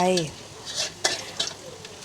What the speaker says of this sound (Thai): คนไปคนมาให้กระเทียมสุก